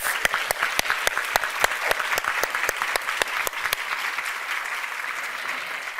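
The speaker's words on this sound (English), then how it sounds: "Let's give them a big round of applause." Audience applause for volunteers at a sustainability awards ceremony, a crowd clapping steadily with a few sharp, distinct claps standing out in front, holding fairly even and gradually thinning.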